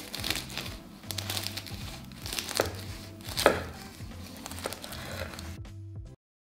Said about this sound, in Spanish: Voy a cortar un pan.